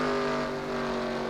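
A pack of race cars drones around a short track oval at Orange County Fair Speedway, a dense, steady engine roar with no break and no voices in this short stretch.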